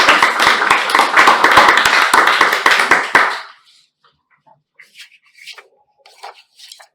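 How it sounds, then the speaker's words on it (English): Audience applause at a joint Toastmasters club meeting, a dense burst of many hands clapping for about three seconds, then fading to scattered faint taps and silence. "give round of applause for our evaluators"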